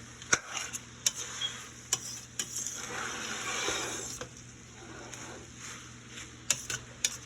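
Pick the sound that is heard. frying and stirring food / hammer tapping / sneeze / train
frying and stirring food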